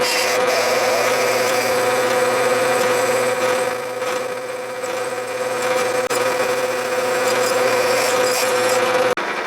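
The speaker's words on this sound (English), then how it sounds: "And now a 5/16 drill, which is the tap drill size." A Bridgeport mill drives a 5/16 tap drill into a workpiece for a C-clamp, giving a steady, loud whirring grind with a constant tone, a brief dip midway, and a sharp click near the end.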